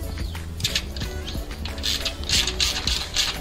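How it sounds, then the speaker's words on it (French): A small 10 mm ratchet clicks rapidly and steadily as it unscrews the bolts holding the poles of an Apollo Sport 400 trampoline, close and loud in repeated bursts. "Alors nous allons retirer les boulons qui maintiennent les poteaux. Donc pour ça, il vous faut une clé de 10 ou un petit cliquet"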